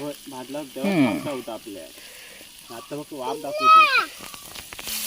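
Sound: chicken liver frying on a roof tile, village style

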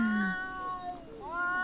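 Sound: cat meowing, video game The Sims 4

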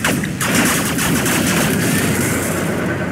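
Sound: missile launcher firing in video game Generals Zero Hour

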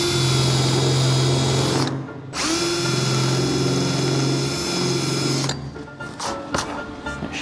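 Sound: electric drill drilling through car roof metal

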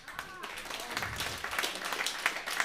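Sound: audience clapping

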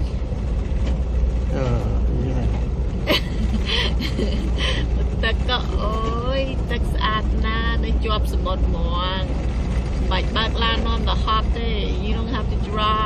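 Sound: Amtrak passenger train moving, heard from inside

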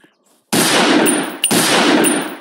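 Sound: gunshot from the first gun in a self-made video game

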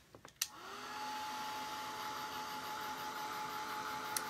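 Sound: electric dryer blowing to dry paint on a wood craft

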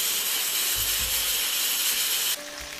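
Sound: pressure cooker hissing while cooking cassava

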